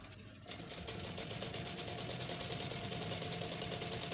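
A sewing machine starts up and runs steadily, stitching along the edge of a fabric front strip, its fast even whir continuing close and unbroken after a brief quiet start.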